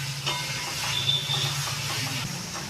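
Onion paste sizzles steadily in a hot pan while being sautéed down for a katla fish kalia, a continuous close hiss with small crackles and no voices.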